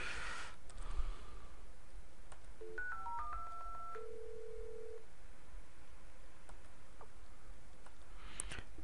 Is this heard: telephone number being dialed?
yes